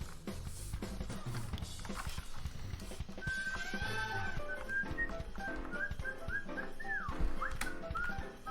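Someone whistles a wavering melody along to a playing song, the whistled line sliding and bending above layered music with percussive hits, fairly quiet throughout.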